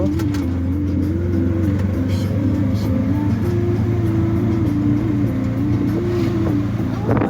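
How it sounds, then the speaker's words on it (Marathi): An auto rickshaw drives along a road near a shore, its small engine droning steadily and loudly close by, with slight pitch rises as it accelerates and no talk over it. "आता रिक्षा केलेली आहे मी आणि आता घरी जात आहे"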